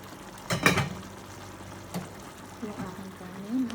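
Sardine broth for a sautéed sardine and sweet potato leaf dish bubbles in a pot, with a loud liquid splash near the start, then softer gurgling and trickling close by.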